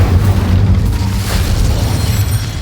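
Incendio fire spell cast in a Harry Potter video game, a deep booming burst of flame that rumbles steadily and loud through its whole length, with no speech.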